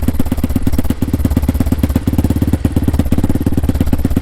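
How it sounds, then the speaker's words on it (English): A Honda Hawk DLX 250 motorcycle with a new exhaust idles in cold weather after sitting, a loud close rapid putter of regular exhaust pulses that lasts the whole time with slight uneven stumbles. "it sounds a little bit better at idle"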